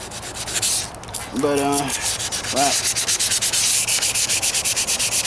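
A 1998 Toyota Corolla's rattle-can painted hood is wet sanded by hand, with rhythmic back-and-forth rasping strokes, close and steady. Brief squeaks come before it speeds into fast regular passes, and a voice says a single word.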